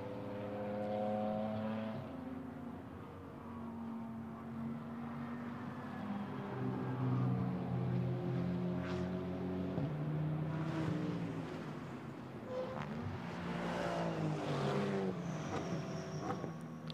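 GT4 race cars lap the Monza circuit during European Series qualifying. Engine notes rise and fall as cars pass, with gear changes and overlapping roars from several cars at moderate distance.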